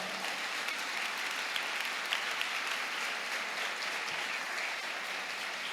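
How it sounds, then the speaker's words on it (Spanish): A church congregation claps during a sermon, steady dense applause from many people sustained at an even level with no pauses. "Si aplaude, aplauda fuerte,"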